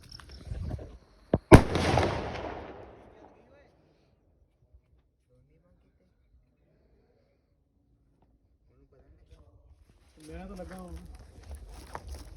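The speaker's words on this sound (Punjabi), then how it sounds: "ਇੱਥੇ ਆਪਾਂ ਬਸ ਇੱਕ ਦੋ ਪਟਾਕੇ ਵਜਾ ਕੇ ਪਹਿਲੇ ਦਿਨ ਦੀ ਤੇ ਦੂਜੇ ਦਿਨ ਦੀ ਕਰਦੇ ਆ ਸਮਾਪਤ" Firecrackers set off during a Gurpurab celebration: one sharp loud bang with a crackling burst that fades over a couple of seconds, then near silence before voices talk in the background.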